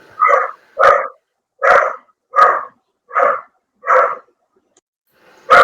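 A dog barks six times in a steady, evenly spaced series, loud and close, with a seventh bark starting at the very end and no talking over it.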